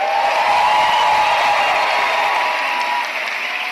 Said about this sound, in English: Let's hear you cheer for our graduates.